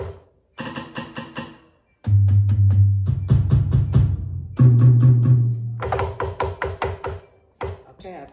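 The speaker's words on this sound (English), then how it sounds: "I want to tune my drum set to make sure I got the right beat" Drum set being tuned and played, with bursts of close, punchy drum hits, some quick rolls and sustained tom tones, loud and alone without talk.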